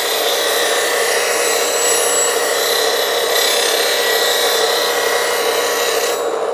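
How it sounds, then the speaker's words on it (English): A 180-grit CBN grinding wheel sharpens a lathe tool, making a loud, steady, hissing grind that runs without pause and tapers off at the very end. "This is a CBN wheel, 180 grit. One side, then the other."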